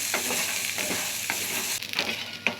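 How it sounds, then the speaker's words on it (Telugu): Food frying in oil in a pan over a high flame, heard as a dense close sizzle with periodic spatula stirs and a few sharper scrapes near the end, with no speech. "ఇప్పుడు ఇవి కూడా అలానే కొద్దిసేపు హై ఫ్లేమ్లో వేయించుకొని తర్వాత సిమ్లో పెట్టి వేయించుకున్నాము"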